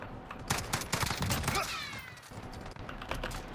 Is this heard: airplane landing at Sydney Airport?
no